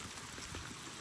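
Light rain falls steadily on a farm during rising floodwater, a faint, continuous hiss and patter with no voices.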